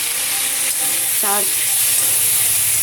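Green chillies and tomatoes sizzle loudly in a hot pan, a continuous close frying hiss with a brief clatter midway, voice faintly underneath.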